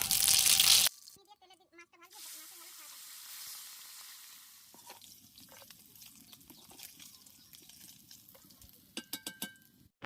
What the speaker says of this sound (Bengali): আমি একটু রান্ননি দিয়ে মাছটা ভাজবো